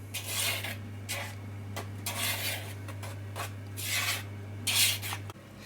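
Margarine being rubbed by hand into gluten-free flour in a bowl for scones, a soft, close rustling and rasping that comes and goes in short bursts over a steady low hum.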